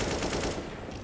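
Rapid automatic gunfire sprays in a competitive video game match, a dense burst of loud shots that tapers off within about a second.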